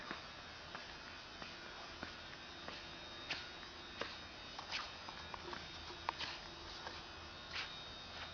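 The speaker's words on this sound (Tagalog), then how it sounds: "Ito pong injection molding machine." An injection molding machine runs in a production area with a steady electrical buzz and hum, dotted with faint intermittent clicks and taps, fairly quiet and without voices.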